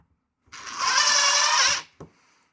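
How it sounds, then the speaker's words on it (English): A power drill whirs in one burst lasting just over a second while drilling holes in a wall for anchors, close and fairly loud, then gives a brief click and stops. "So I know where to put the holes when I do my drill bit"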